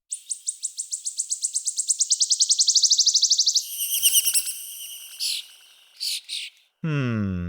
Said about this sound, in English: How many birds do you hear?